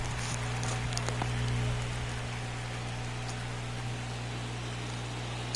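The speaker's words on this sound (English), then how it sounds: "We have kind of a steady light rain here in Miami for game 4." Steady light rain hiss in Miami from a baseball video game's playoff broadcast, a constant even wash of noise with a low hum beneath it.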